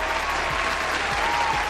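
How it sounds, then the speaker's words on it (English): A studio audience claps and cheers in a brief, dense burst of applause, loud and close, with no speech over it. "Give her a round of applause"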